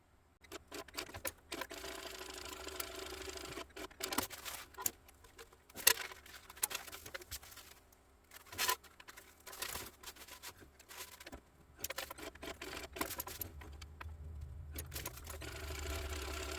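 A sewing machine stitches fabric pieces together while making a Lola bag from a Swoon pattern, giving a quiet, busy patter of bursts and pauses with a low motor hum underneath.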